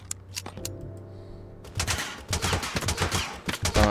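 Pistol shots in the TABS battle game, sharp cracks firing in quick bursts, a few spaced shots at first and then rapid closely packed fire, loud and close.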